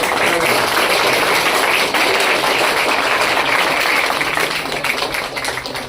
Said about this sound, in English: One time very tight clapping for the man who is behind this.